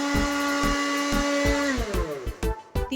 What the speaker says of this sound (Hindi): ब्लेंड कर लेंगे हम अच्छी तरह से।